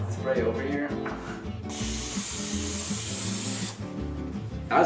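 A loud, steady aerosol spray hisses for about two seconds over background music, then cuts off.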